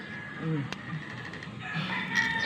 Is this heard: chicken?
yes